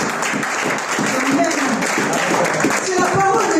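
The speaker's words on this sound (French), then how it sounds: "Est-ce que nous pouvons applaudir pour la parole du Seigneur?" Applause from a church congregation during a Sunday service, a full, continuous wash of many hands clapping with voices faintly mixed in underneath, steady and fairly loud throughout.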